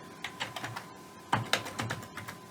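Typing on a computer keyboard while configuring a router, with irregular bursts of soft, close key clicks and a few louder strikes, faint against a quiet room.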